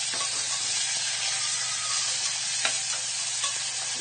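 Sliced onion and curry leaves sizzling in oil in a pan for chickpea pulao, a steady close hiss of frying with occasional stirring clicks, no talking.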